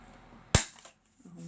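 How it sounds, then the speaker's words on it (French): A corner rounder punch snaps through the corner of a card in a single sharp, close click, followed by a brief rustle of handling and then quiet. "Donc on va arrondir les angles aussi."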